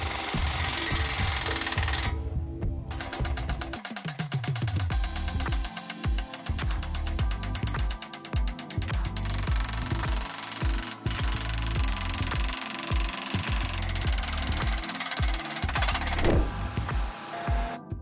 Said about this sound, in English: Fence post machine. A great machine attachment for farmers and ranchers with livestock or professional fence builders.